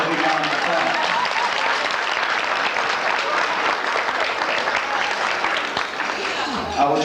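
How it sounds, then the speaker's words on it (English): An audience at an annual foster parent conference applauds continuously, a dense, sustained wash of clapping from a large crowd filling the room. "So let's give her a big round of applause."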